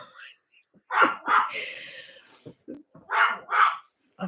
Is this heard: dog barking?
yes